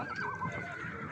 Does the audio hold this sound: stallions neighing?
yes